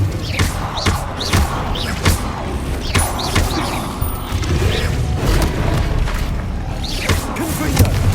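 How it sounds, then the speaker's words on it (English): Bombarda spell blasts in the video game Hogwarts Legacy, a run of loud booming thumps with mechanical clatter repeating roughly every second, layered over busy game effects. "Bombarda."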